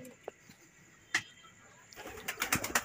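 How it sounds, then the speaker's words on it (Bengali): Pigeons in a loft of high-flying pigeons give faint, low cooing with a few soft clicks, building to a quick run of pulsing coos near the end. "এই কিছু পায়রা নেমেছে, এই কিছু পায়রা নামছে, আর কিছু পায়রা ওপরে রয়েছে"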